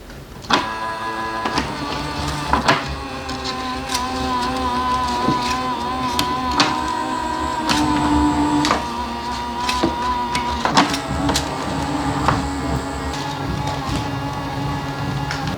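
A 3D printer pulls filament in from its spools with a steady motorized whir and high tonal hum, broken by sharp clicks and brief pitch changes as the feed mechanism starts and stops, close and loud with no talk.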